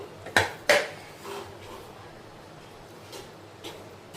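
A ragi ball is set down onto a plate with two sharp clinks of utensil against the plate close by, then quieter faint knocks and handling noises.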